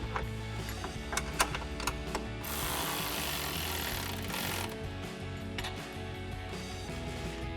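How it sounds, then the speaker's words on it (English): An 11mm socket wrench ratchets down pinch weld bolts on a Jeep Wrangler JL while side step bars are fitted, with rapid close clicks running under a steady background hum and a brief rougher burst midway. "we'll switch to an 11mm socket and 11mm wrench to tighten down our pinch weld bolts."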